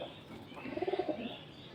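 Breeding pigeons give a short, low, throaty coo in a quick rolling series, faint and close, with no talk.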